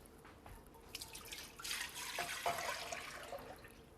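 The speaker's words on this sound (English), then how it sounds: "I have half a quart of cream and half a quart of milk. I'm going to put this in my sauce pot here." Cream and milk poured into a sauce pot for a vanilla custard base, heard as a soft trickle that builds into a steady close splashing pour, fairly quiet and without talk.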